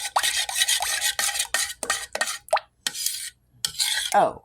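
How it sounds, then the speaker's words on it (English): Garlic powder and freeze-dried parsley being stirred into a dish during home meal prep, heard as a close run of quick, uneven scraping strokes of a spoon against the container. "And mix that in as good as we can."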